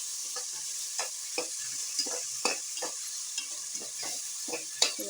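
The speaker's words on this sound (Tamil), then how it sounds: "பெரிய வெங்காயம் ஒரு மூணு வெங்காயம் கட் பண்ணி எடுத்துருக்கோம் இதை வந்து இப்போ வதக்கிக்க போகிறோம்" Three large cut onions sauté in a pan over a bright continuous sizzle. Repeated scraping strokes of the spoon come at an irregular rhythm, close up, with no voices.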